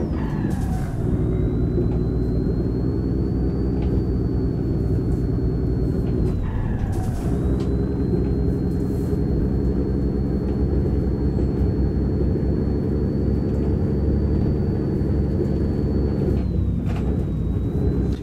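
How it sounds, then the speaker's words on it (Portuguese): A heavy cattle truck engine roars loudly and steadily on dirt roads, its pitch climbing and dropping with gear shifts, a deep constant drone close by. "Se escutar o ronco do caminhão, se liga, ó."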